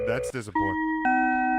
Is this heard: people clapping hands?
no